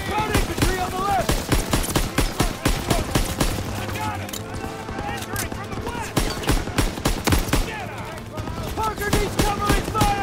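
Heavy machine gun fire in Call of Duty WW2's Hill 493 battle, continuous rattling bursts with sharp individual shots, loud and near, with soldiers' shouts mixed into the chaotic combat.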